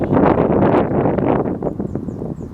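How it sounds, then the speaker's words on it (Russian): Strong storm wind in the Urals buffets the microphone in a loud, continuous roar with gusty surges, close and unbroken for the whole stretch, with no voices. "Просто штормовой такой ветер."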